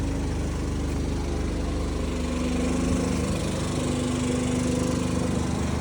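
A pressure washer's small gas engine runs loud and close, holding a steady, throbbing drone with a constant hum and no pause or change in pace.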